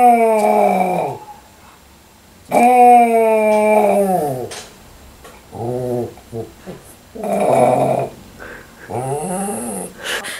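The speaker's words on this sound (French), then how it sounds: "Tu as eu droit à Kiki quand il y a une camionnette de pompiers, de flics qui passent avec son petit wouh comme ça" A dog howls in long, drawn-out wails with pauses and shorter whimpering calls between, close and loud, as passing fire truck and police sirens set it off.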